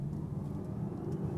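A Volkswagen ID Buzz electric van launching hard from a standstill, a steady low road rumble and motor hum heard from inside the cabin, continuous and fairly loud with no talking.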